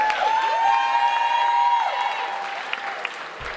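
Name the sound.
audience applause and cheering at a pageant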